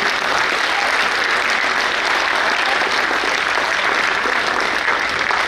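An audience at a university convocation ceremony gives sustained applause for medalists and graduating students, a thick even wash of clapping that holds steady from start to finish.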